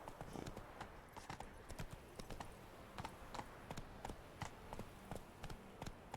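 Roach, the horse from The Witcher 3 video game, gallops with a steady, rapid clip-clop of hooves, continuous and fairly close, over a low ambient bed.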